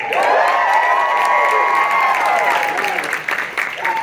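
A convention audience in front of a stage at Midsummer Scream in Long Beach cheers and applauds loudly in one sustained roar, with whoops and shouts that ease slightly toward the end.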